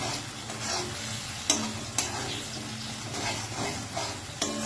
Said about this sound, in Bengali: ভালো করে মশলাটা একটু কষিয়ে নেব